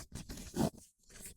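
A zipper on the fabric cover of a home herbal steam sauna cabinet with a steel frame, pulled in several short, scratchy rasps, close and fairly quiet.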